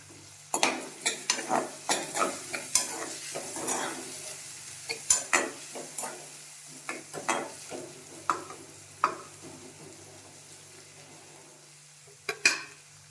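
Green chilies fry for semiya with a soft, light sizzle while a spoon scrapes and taps the pan in frequent irregular strokes, busy early and sparser toward the end, then a final few knocks.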